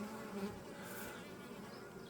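A soft, steady hum of buzzing honeybees in a hive lightly infested with mites fills the background, continuous and fairly faint.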